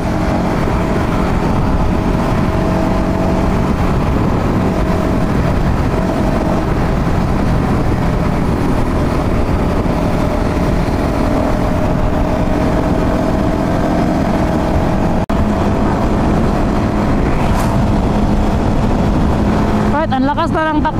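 Continuous wind-blasted engine drone from a motorcycle riding on the road, with a Honda Winner X nearby; loud and unbroken, with voices faintly mixed in.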